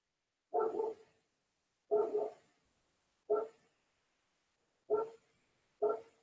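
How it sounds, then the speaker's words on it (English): A dog barks five times in separate spaced bursts, somewhat distant, with quiet between each bark. "Pardon all the barking."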